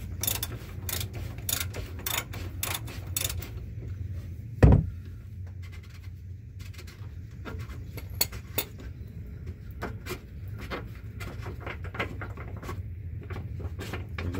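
Fuel filters on a 2016 Chevy Colorado 2.8 Duramax diesel being twisted loose by hand, giving scattered close clicks, taps and scraping handling noises with one sharp knock near the middle, and no talking.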